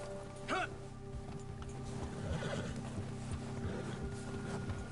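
A horse in Red Dead Redemption 2 whinnies briefly near the start over a steady outdoor ambience with soft hoof and movement sounds, fairly quiet throughout.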